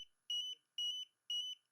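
An AltAIR 5X gas meter sounds its alarm in three short, evenly spaced bursts of shrill electronic beeping, each burst a rapid double chirp, close and clear against silence.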